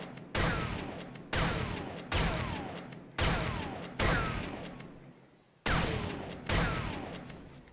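Shotgun in the video game 7 Days to Die firing a full clip, seven loud booming blasts at roughly one-second intervals, each trailing off before the next.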